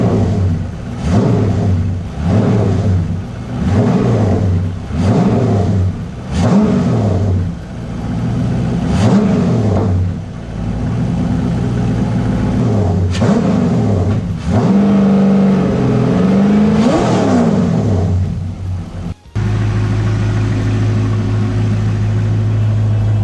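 A BMW E30 with a swapped LS1 V8 and a new diff ratio, on a test drive, revving hard through repeated rising pulls and gear changes, loud and close, then settling into a steady drone.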